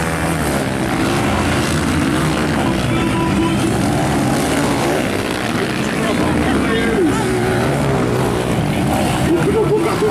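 Pre-beginner class motorcycles at a velocross race in Russas, Ceará, drone and rev hard in a dense, continuous engine roar that rises and falls as the bikes accelerate.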